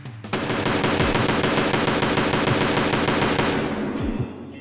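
An SVD rifle in Escape from Tarkov is spam-fired without recoil control, a loud, rapid, unbroken string of close gunshots lasting about four seconds before cutting off abruptly, followed by faint mechanical clicks.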